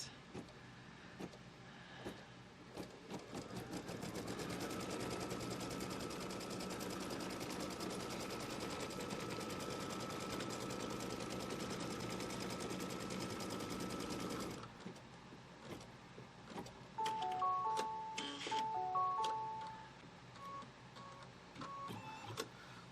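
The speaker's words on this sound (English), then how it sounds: "And now it's going to stitch a line from here to here." An embroidery sewing machine stitching a line on a Kimberbell Pumpkins & Potions quilt: a steady, rapid mechanical whirring hum for about ten seconds that stops abruptly, followed by quieter handling clicks and a brief series of electronic beeps.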